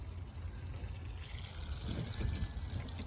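Water trickling and pouring steadily into the soil of a potted rose, a soft continuous gurgle and dribble close to the microphone with no talk.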